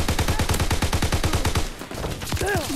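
Rapid automatic gunfire in the video game Call of Duty WWII: a dense, even burst of loud shots that stops abruptly, followed by mixed game sound effects and a falling tone.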